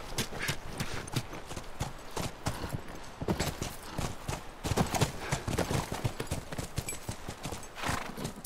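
Horse hooves clip-clop in the video game The Last of Us Remastered, a brisk, uneven run of sharp close hoofbeats repeating steadily over a soft ambient background, with no speech.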